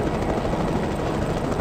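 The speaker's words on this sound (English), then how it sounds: "they didn't have helicopters before" A helicopter in the Wolverine's Revenge video game thumps and whirs steadily, a continuous loud rotor wash filling the whole moment.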